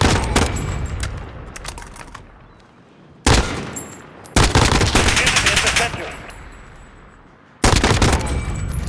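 AN94 rifle in Call of Duty Modern Warfare fires loud rapid bursts in three separate strings, each burst a fast rattle of shots separated by short pauses, alone without talk.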